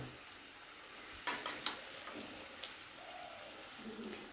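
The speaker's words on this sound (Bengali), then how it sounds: "ঘিটা দিয়ে খুব ভালো করে মিশিয়ে নেব" Ghee is stirred into shukto, a Bengali vegetable curry, in a pan. A few quick scraping strokes sound over a faint, steady sizzle, and then the pan goes quieter.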